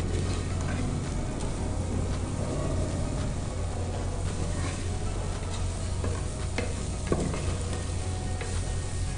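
Semiya vermicelli and chicken fry in a pan with a continuous close sizzle, steady stirring scrapes, and an occasional sharp utensil tap.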